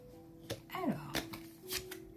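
Playing cards being shuffled for a tarot-style card reading, a few quick riffling and snapping bursts close by, with faint tonal hum and brief speech-like sounds in the background.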